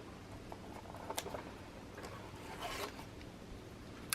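Small paper pieces being folded and pressed for a craft divider, producing faint rustles, light scrapes and a few soft ticks, quiet and close.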